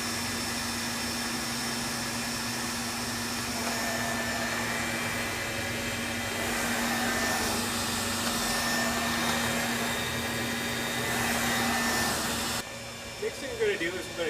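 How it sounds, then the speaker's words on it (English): A flatbed printer starting up and running a nozzle check, giving a steady, even mechanical whir with a faint tonal hum that drops away near the end, heard close by. "And then it's going to do a nozzle check."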